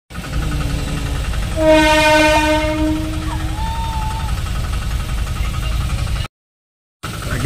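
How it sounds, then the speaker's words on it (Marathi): A train rumbles past nearby at a closed railway crossing gate with a long, loud horn blast, steady rolling noise continuing before a brief cut of silence. "ट्रेन गाडी पण गेलेली आहे मित्रांनो"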